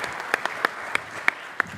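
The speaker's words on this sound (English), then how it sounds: "Can we have a round of applause for our moderator, Mason?" Brief applause from an audience at an empowerment day event, a short patter of scattered claps with a few sharp individual claps standing out.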